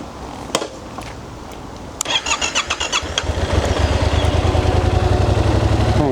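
A Yamaha MT-07 motorcycle with 3,600 km on it cranks and catches after a few clicks, sputters briefly, then settles into a steady, close rumbling idle.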